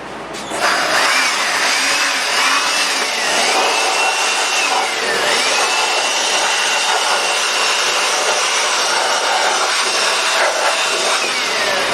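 Compressed air blasting dust out of a used bandsaw indoors in a small office, a loud steady hiss running almost continuously with slight fluctuations, no talking.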